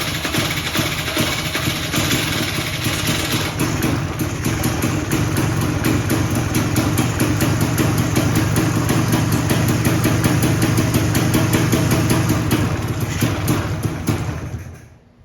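A 1990s two-stroke motorcycle engine idles loud and close just after startup, a steady buzzing burble with a fast even pulse that holds for about fourteen seconds, then cuts off abruptly at the end.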